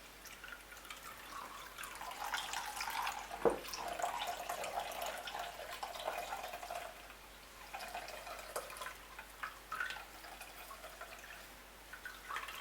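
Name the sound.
water dripping from squeezed cassava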